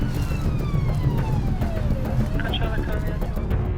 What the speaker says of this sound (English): there's a car behind him, blue light, sirens on